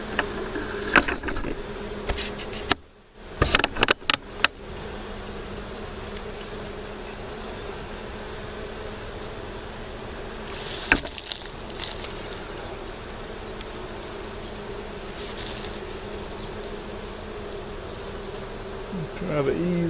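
Bees humming inside an opened beehive, a dense steady drone close by, broken early on by a few knocks and rustles from handling the hive box.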